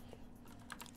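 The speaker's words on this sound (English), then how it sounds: "And you are going to hear a lot of my keyboard." A computer keyboard is typed on, with a few faint, quick key clicks against low background hum.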